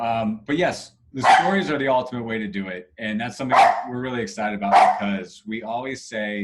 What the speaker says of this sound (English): Yeah, sorry about the dogs.